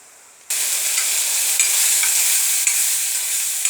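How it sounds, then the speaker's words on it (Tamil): Ingredients for a soup sautéed in a pan start sizzling suddenly and keep up a loud, steady frying hiss with a couple of faint stirring clicks, with no talking. "எல்லாத்தையும் போட்டு வதக்கி எடுக்க வேண்டியதான்"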